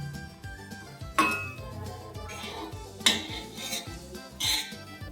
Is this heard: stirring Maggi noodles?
yes